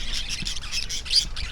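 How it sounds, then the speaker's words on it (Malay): Birds call outdoors in a short burst of repeated, fairly bright chirps and squawks at moderate distance, with no talking. "Burung-burung lah."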